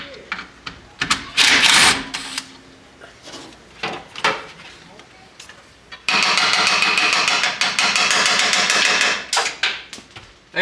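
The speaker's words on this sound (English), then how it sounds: "I'm grabbing a power ratchet" Power ratchet on a 1967 Pontiac Bonneville: scattered clanks and tool knocks, then a loud, sustained buzzing whir for about four seconds that cuts off abruptly, close by in a garage.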